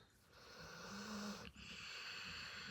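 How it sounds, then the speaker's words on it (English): A dog named Maximus, also called King, snores softly and close up, a couple of long wheezy breaths in a quiet room. "Snoring like he's worked all day"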